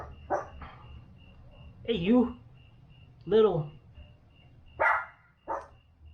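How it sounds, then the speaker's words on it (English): A neighbor's dog a few houses away barks several times in short, scattered bursts. Someone speaks briefly between the barks. "there's a neighbor's dog probably about 3 or 4 houses away that's barking"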